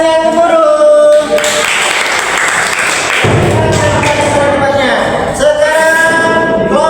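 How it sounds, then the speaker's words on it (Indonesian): Students in a classroom break into loud, rolling applause after a group presentation, dense clapping that builds and fades while voices chatter around it. "kasih tepuk tangan yang gemuruh"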